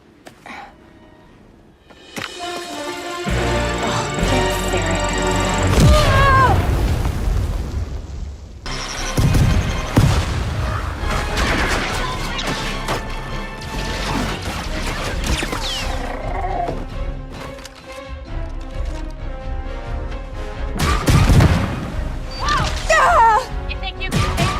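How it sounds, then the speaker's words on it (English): Explosion scene from Ubisoft video game gameplay: heavy booming blasts and crashes layered over dense music and game effects, loud throughout with several big bursts rising out of the mix. "So this explosion scene, by the way, has gone viral."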